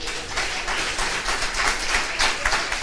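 Applause from a church congregation, a dense wash of many hands clapping at steady loudness, filling the room throughout.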